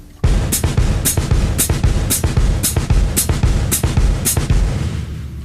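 Samba kick drum and hi-hat foot pattern played up to tempo on a drum kit, a quick, even alternation of low thumps and sharp hi-hat chicks, loud and close, with no voices.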